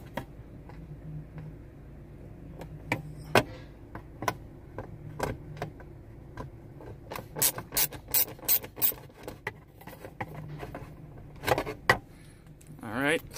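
A screwdriver backs out a Phillips screw from the front dome light of a Kia Optima or Hyundai Sonata, giving quiet, close ratcheting clicks in irregular bursts with faint rubbing and small plastic knocks between them.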